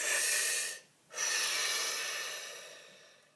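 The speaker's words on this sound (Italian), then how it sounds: "facciamo un bel respiro" A single deep breath drawn in, broad and airy, then a short pause before a longer, steady exhale that slowly fades, close and alone with no talk.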